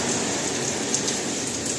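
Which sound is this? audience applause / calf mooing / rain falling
rain falling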